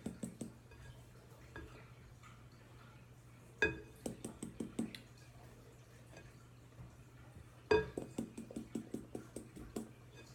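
A utensil clinks and scrapes against a bowl while flour and salt are stirred into chocolate batter, in short rhythmic bursts of tapping with pauses between, fairly quiet and close.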